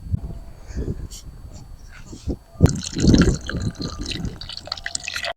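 Water pouring and splashing as a container is filled for farm animals in spring, a louder gush in the middle with drips and trickles around it, and a voice speaking softly nearby.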